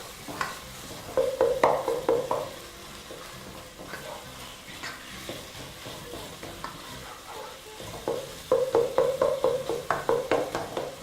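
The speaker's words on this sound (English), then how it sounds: "I'm just going to slide that into my pan. Now all you want to do is break that apart gently while mixing." Ground beef browning in a pan for beef nachos, being gently broken apart and stirred, with scraping bursts of utensil work over a steady background sizzle.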